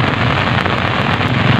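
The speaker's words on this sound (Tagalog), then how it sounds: "Lumalakas na yung ulan mga dudes." Heavy rain pouring outdoors at the meeting of a big river and a stream, a loud, steady, dense hiss of falling water with no break and no talking.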